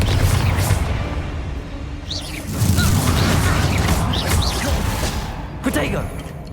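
A Confringo blasting curse in the Hogwarts Legacy video game goes off in a series of booming explosive bursts and whooshes amid ongoing combat noise, with a voice speaking over the action.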